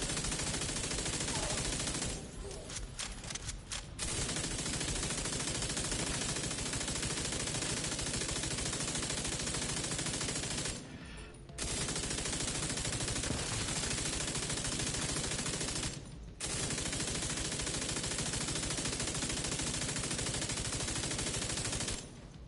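Sustained automatic gunfire in The Division 2, dense and loud, rattling almost without pause for over twenty seconds, broken only by two brief gaps and a short stutter near the start.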